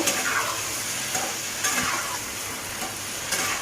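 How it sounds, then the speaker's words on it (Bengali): Mixed vegetables frying in a pan on low heat: a steady close sizzle with scraping and stirring of the spoon against the pan, occasional sharper clacks, no voices. "এখন আমি সবজিটা দিয়ে দিলাম, কম জালে এইভাবে 5 মিনিটের মতো আমি কষিয়ে নেব।"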